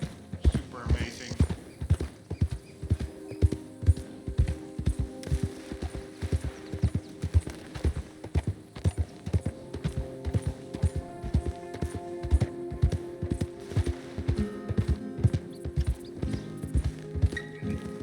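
Horse hooves clip-clop steadily on a trail in Red Dead Redemption 2, a close, even rhythmic trot that carries on throughout under a faint game ambience and occasional gear-like rattles.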